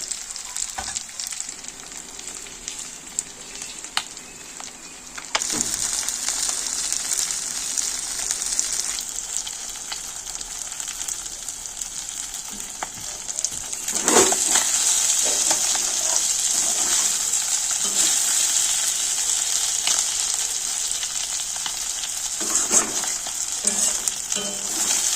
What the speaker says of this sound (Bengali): একটুখানি শুধু কড়াইটা ঘুরিয়ে ঘুরিয়ে নিয়ে ভাজতে হবে যাতে মাছগুলো না ভেঙে যায়